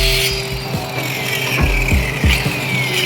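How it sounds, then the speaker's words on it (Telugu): A cutting machine runs steadily while sawing a wooden plank lengthwise for a wooden plastering trowel, a loud continuous whine with a falling pitch and a few sharp knocks as the blade bites the wood. "కటింగ్ మిషన్ తీసుకొని ఇప్పుడు పొడవు అనేది కట్ చేస్తున్నాను."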